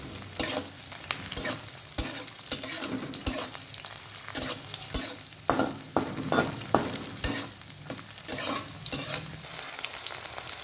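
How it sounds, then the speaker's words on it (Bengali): Onion frying with green and dried chilies in a pan, a continuous sizzle broken by frequent sharp spatula scrapes and clinks at an irregular rhythm, close and fairly loud, with no talking. "পেঁয়াজটা একটু লাল লাল করে ভেজে নেব"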